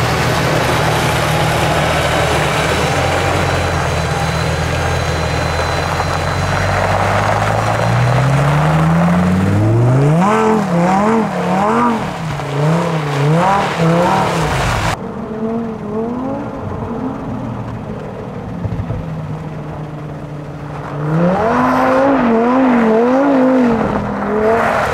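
A Lamborghini Huracán EVO engine roars and revs repeatedly, pitch sweeping up and down in bursts as the car drifts, loud and close, with a brief quieter stretch midway.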